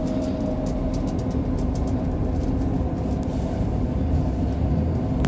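Cabin rumble from inside Class 158 unit 158863 on an evening journey toward Scunthorpe via Barnetby, a loud, continuous low drone with a steady hum and faint rattles throughout.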